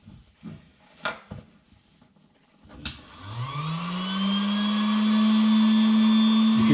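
A few light clicks and handling knocks, then an electric pump whirs up and runs steadily, inflating a Trekology UL80 sleeping mat with a loud, constant drone.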